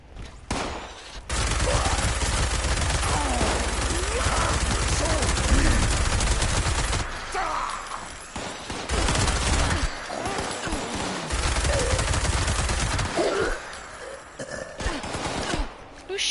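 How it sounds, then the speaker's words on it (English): Sustained automatic fire from a minigun in Fallout 76, a dense rattling burst running for long stretches with brief pauses between volleys, loud and close, with a few faint voices in the background. "get my minigun out"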